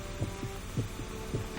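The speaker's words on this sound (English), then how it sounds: "almost in rhythm with the beating of his own heart." A human heartbeat throbs in a slow, regular lub-dub rhythm, three muffled beats close and low over a steady hum.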